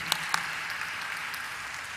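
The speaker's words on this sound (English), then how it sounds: "let's have a huge round of applause for Senco Gold Limited" Crowd applauding at a stock exchange listing ceremony for Senco Gold Limited, a sustained dense patter of clapping with a couple of sharper close claps near the start.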